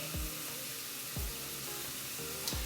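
Ginger, garlic and chilies cooking in a pan for a kidney bean curry, a faint continuous sizzle with three soft low thumps at regular intervals, no talk.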